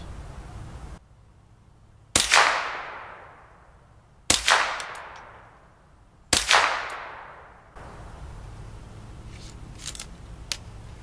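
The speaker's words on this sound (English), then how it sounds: "We're going to go ahead and put 3 rounds of the Federal match ammo in it." Three suppressed gunshots fired through a Silencerco Warlock II suppressor with Federal match ammo, each a sharp close crack with a short decaying tail, spaced about two seconds apart, with faint handling noise afterward.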